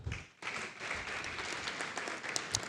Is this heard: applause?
yes